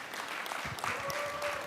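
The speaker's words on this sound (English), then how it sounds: "Give Gwen a round of applause" Audience applause at an adult forum gathering, a steady wash of clapping from a modest crowd that holds at an even level throughout.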